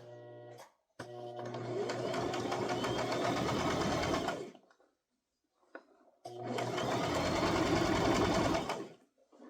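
A sewing machine topstitches a toddler crossbody purse with its straps in place, running in two long, loud, steady bursts separated by a brief silence, close to the ear.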